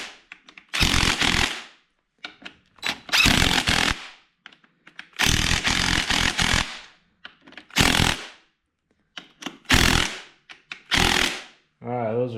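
A DeWalt power tool tightens bolts on an R154 transmission being built into a dog box for a Supra drift car, firing in about seven loud, close bursts separated by short silences, with brief speech at the very end.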